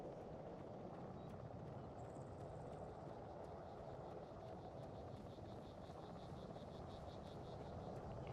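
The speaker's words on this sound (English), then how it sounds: "What about that NATO helicopter behind us?" A NATO Ghost Hawk helicopter in the ArmA 3 game flies nearby, a steady dense rotor and engine roar holding at an even loudness throughout, with a faint rhythmic thumping riding on top.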